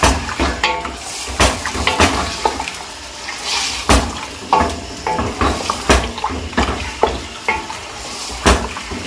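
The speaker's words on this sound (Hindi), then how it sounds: "अब हम इसको अच्छी तरीके से भूनेंगे।" Beef or mutton liver pieces are stir-fried in a pan, with a loud sizzle broken by repeated clanks and scrapes of the spatula against the metal in an uneven rhythm, with no talk.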